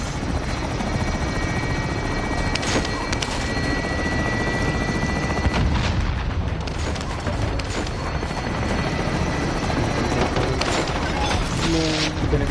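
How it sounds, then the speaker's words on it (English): An enemy attack helicopter in a PS4 video game roars loudly and steadily with a dense rotor thrum, joined by scattered gunfire and explosions from the game's battle. "Enemy attack chopper incoming."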